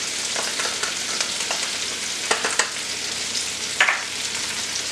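Garlic sizzling and frying in a hot pan of onions for beef and broccoli, a steady close hiss with a few sharper crackles and stirring scrapes, no talking.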